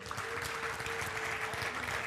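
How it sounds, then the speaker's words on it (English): A church congregation claps together in a steady, dense wash of applause, fairly distant and soft, with a faint tonal hum running underneath throughout. "clap for Jesus now."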